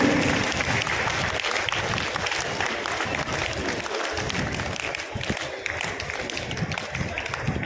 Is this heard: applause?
yes